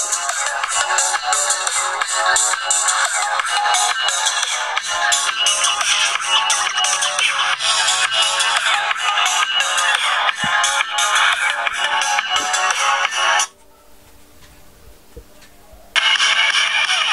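Loud ringtone played at maximum volume from an Infocus Vision 3 phone speaker, a bright repeating melodic pattern lasting over thirteen seconds, then a brief quieter gap with faint handling noise before the tone resumes.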